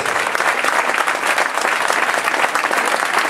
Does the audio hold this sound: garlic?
no